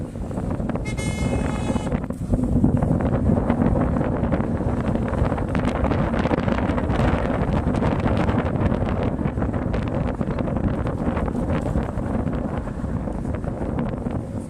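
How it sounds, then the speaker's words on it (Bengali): Cold wind buffets a microphone on the mountain road from Bageshwar to Baijnath in Uttarakhand, a loud continuous roaring rumble, with a short horn toot near the start. "যত বেলা কমে আসছিল তত ঠান্ডা হাওয়া যেন চাবুক মারছিল।"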